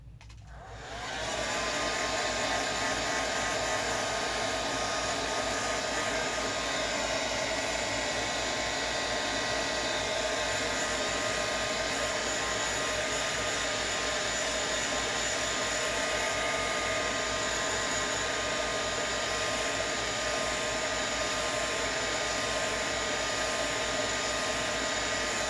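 A hair dryer blows steadily on a mixed media craft project, switching on in the first second and then holding a loud, constant whirring roar for the rest of the time with no talking.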